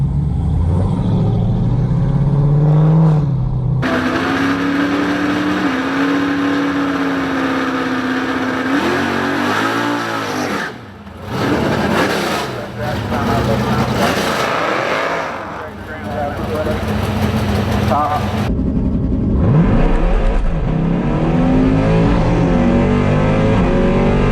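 A Jeep Grand Cherokee Trackhawk accelerating hard with its tires spinning, a loud, sustained engine roar rising and shifting in pitch, with voices talking over it.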